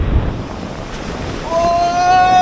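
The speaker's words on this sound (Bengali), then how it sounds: "বৃষ্টি পড়ছে, তার মধ্যে যা ঢেউ, মারাত্মক ঢেউ।" Heavy sea waves on a beach in the rain at Bagda, Odisha, a loud wash of surf and wind buffeting the microphone, rising toward the end, with a faint tonal whistle over it.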